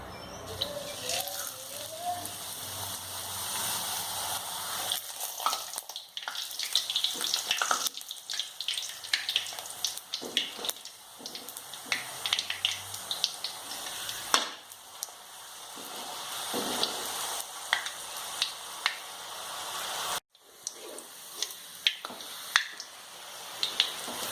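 Puri frying in hot coconut oil gives a steady close hiss with crackles and sharp pops scattered throughout, its level shifting as the dough settles into the oil.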